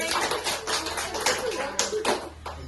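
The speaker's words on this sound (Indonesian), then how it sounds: "Beri tepuk tangannya." Students clap together in a classroom during a micro-teaching lesson, a short burst of hand claps with distinct sharp slaps standing out near the end.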